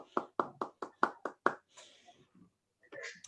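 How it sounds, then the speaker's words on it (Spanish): A single person or small group claps seven crisp, evenly spaced times up close for Lorena after a talk on the digital divide in Spain, then the room falls nearly quiet with faint shuffling and a murmur. "iniciar con un buen aplauso a Lorena"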